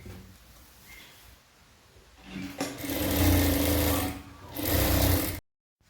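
Sewing machine stitching formal trousers, a low hum that builds into a loud, steady motor whir for a few seconds, a short lull and another run before it stops abruptly.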